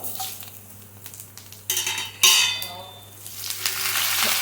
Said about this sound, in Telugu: five are six spoons oil వేసుకోవాలి బాగా డీప్ అయిన తర్వాత పోపులు వేసుకోవాలి